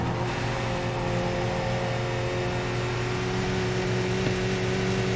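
A race car engine drones loud and steady at Mount Panorama, Bathurst, in a racing simulator, with a brief dip in pitch late as it downshifts.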